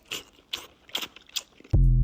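Someone bites and chews an 18-ounce ribeye steak, giving four close, crunchy, wet bites in a steady rhythm, followed by a sudden loud low thump.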